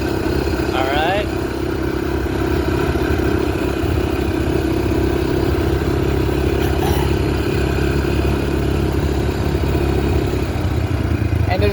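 A Honda 300EX ATV engine runs steadily at close range, a constant mid-pitched rumble with light mechanical clatter throughout, and a voice briefly chimes in near the start.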